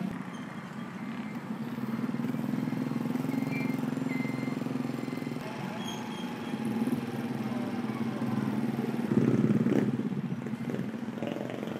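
A Honda TMX 125 Alpha motorcycle engine drones steadily while riding, a continuous low hum that swells slightly near the end, moderately close with no voices.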